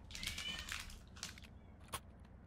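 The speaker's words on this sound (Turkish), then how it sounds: "Dönemi geldi çiftleşme. Balkonda mayak mayak." A cat in heat meows on a balcony, a few short strained cries in quick succession and then a brief final yowl, heard at a moderate distance with no talk over it.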